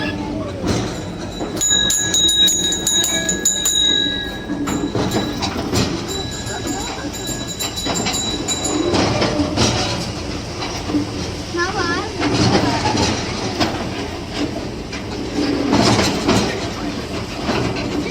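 A small park train at Mahatma Gandhi Park on Ratnagiri Bore hill top, Chikkamagaluru, rattles along with clickety-clack wheel noise and brief high whistle tones, while people chatter and call out throughout.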